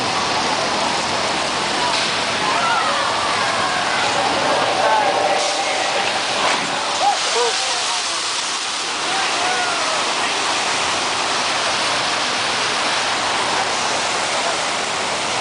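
Heavy artificial rain, water sprayed upward to fall like a downpour at a studio effects set, a dense steady hiss that fills the whole stretch, loud and close.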